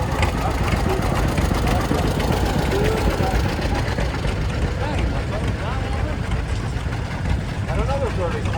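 A 1930 four-cylinder diesel antique tractor rumbles and knocks steadily during a machinery parade, loud and continuous with outdoor crowd noise and voices mixed in.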